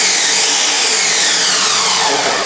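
A Ninja Mega Kitchen System blender, a 2-horsepower 1500-watt blender-juicer, chops ingredients with a loud, steady, roaring whir that runs without a break.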